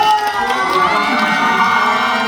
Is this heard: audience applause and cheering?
yes